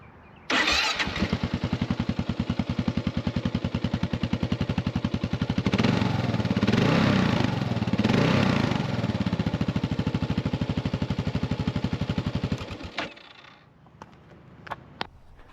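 A 2023 Kawasaki KLR 650 Adventure dual-sport motorcycle cranks and fires, then settles into a steady, close, loud single-cylinder idle with a brief rev swell midway before shutting off abruptly, leaving quiet background.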